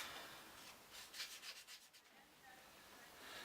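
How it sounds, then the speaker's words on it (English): Sandpaper rubbing over a plastic pail lid to rough up the surface, a faint series of quick scratchy strokes with quiet room noise around them. "we need to give it a bit of a sand to rough it up"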